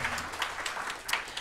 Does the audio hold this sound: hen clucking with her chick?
no